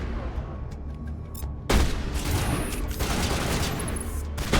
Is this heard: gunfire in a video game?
yes